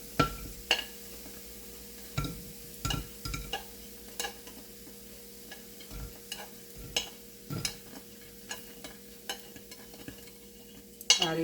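A metal utensil scrapes and taps against a pan as cabbage appam are lifted out, giving a series of sharp intermittent clinks over a faint steady hum, with no talking.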